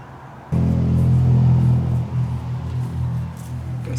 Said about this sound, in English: guys hear that 4Runner?